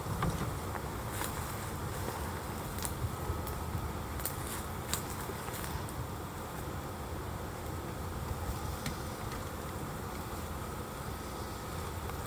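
Honeybees swarm around an open hive box, producing a steady, close, droning buzz that holds for the whole stretch, with a few sharper clicks of equipment cutting through.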